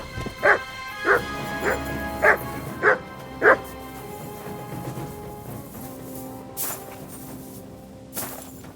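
A dog in the video game Kingdom Come: Deliverance 2 barks six times in an evenly spaced series, close and clear, followed by a couple of softer, fainter sounds.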